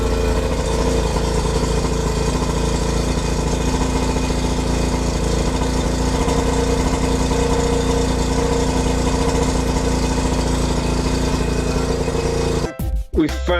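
A Yamaha 90 outboard motor runs steadily after a restart, a loud continuous engine drone that holds for over twelve seconds before cutting out abruptly.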